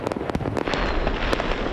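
Fireworks burst over Athens at Syntagma Square for the 2023 New Year, a dense rapid series of loud bangs and crackles layered over a continuous roar of distant explosions.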